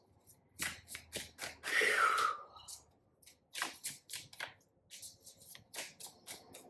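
Tarot cards are shuffled close up in a series of quick, crisp riffling bursts with short pauses between them, the longest burst near the start.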